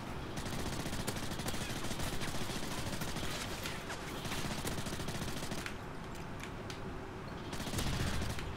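Sustained video-game gunfire in a multiplayer shooter, loud continuous automatic bursts and rapid shots running through the whole stretch, with brief lulls and a heavier flare-up at the end.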